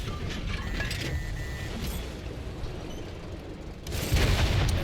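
Tank ammo rack detonating in the World of Tanks console game, a Centurion tank caught in a loud rumbling blast with heavy booms and crackling debris, then a second surge of explosive roar near the end.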